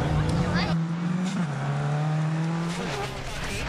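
APRC rally cars on the Whangarei super special stage, engines revving and shifting up close with a brief tyre scrabble, under a commentator's voice.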